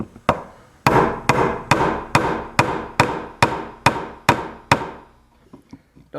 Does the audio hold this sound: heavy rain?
no